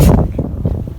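Gusty wind buffets the microphone on an exposed hilltop beside a church, a loud, rumbling roar that rises and falls in uneven surges.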